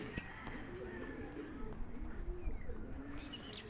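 Yellow-green African birds, likely lovebirds, coo softly in low, repeated calls while feeding on the ground, over a quiet outdoor background, with occasional faint chirps.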